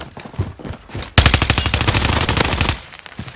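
Automatic gunfire in the video game Warzone crackles in one sharp sustained burst of rapid, loud shots lasting about a second and a half, after brief quiet talk.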